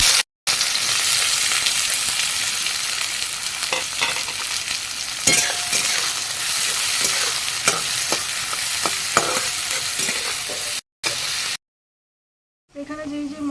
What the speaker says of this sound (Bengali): জিরা এলাচ দারচিনি আর একটা তেজপাতা এগুলো আমি এখন এই তেলের মধ্যে ছেড়ে দেবো পেঁয়াজগুলো ছেড়ে দেবো